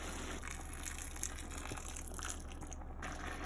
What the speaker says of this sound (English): add enough boiling water until everything is covered.